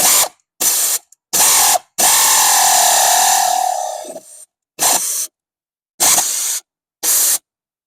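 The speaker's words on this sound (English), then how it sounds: "it said I can use an air ratchet, so that's exactly what I'm going to do right now." An air ratchet drives a Ford spark plug in short bursts: several quick whirring pulses with silent gaps, plus one longer run whose pitch drops as the plug meets resistance, loud and close.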